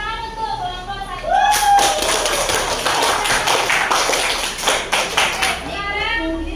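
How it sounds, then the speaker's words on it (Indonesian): Applause for group 1 at a school practice session, a burst of clapping from a group lasting several seconds, close and loud, with talking around it. "tepuk tangan untuk kelompok 1."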